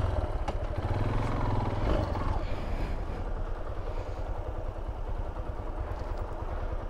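A motorcycle engine runs steadily at idle close by, a low continuous rumble with some clattering, loud throughout.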